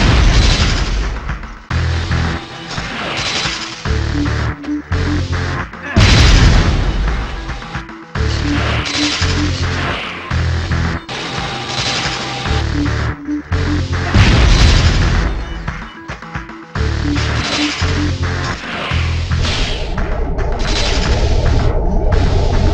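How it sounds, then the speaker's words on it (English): Laser blasts and booming explosions from the PS1 Spider-Man video game, a dense barrage of repeated loud bursts and crashes running almost continuously with short gaps and no talking. "quit shooting the lasers"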